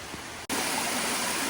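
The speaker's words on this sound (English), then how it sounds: "I can still see the waterfall going down, down, down, down" Steady broadband rush of a waterfall tumbling down a slope beside the Appalachian Trail, loud and close, with a brief cut before the roar continues unbroken.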